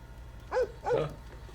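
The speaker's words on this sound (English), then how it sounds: "I think there was a dog here." A dog barks twice in a TV show, two short moderately loud woofs about a third of a second apart over a quiet background.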